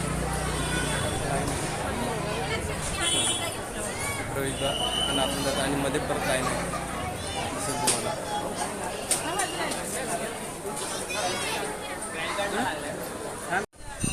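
A big festival-day crowd of devotees at the Varad Vinayak temple in Mahad makes a steady babble of many voices, with a nearby speaker talking over the hubbub and occasional scattered clacks and footsteps.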